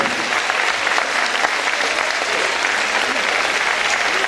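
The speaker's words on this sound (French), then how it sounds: "Applaudissements s'il vous plaît." Steady, dense applause from a television studio audience fills the whole stretch at an even level, with no pauses or voices standing out.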